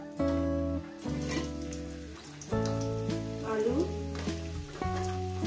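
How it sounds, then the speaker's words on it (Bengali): Three dried red chillies frying in hot oil, a crackling sizzle that rises and falls under light, steady tonal background music. "শুকনো লঙ্কা ফোড়ন 3টে দিলাম আমি। দিয়ে কয়েক সেকেন্ড ভেজে নেব।"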